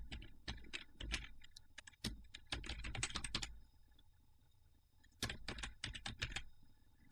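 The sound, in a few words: typing on computer keyboard to rename file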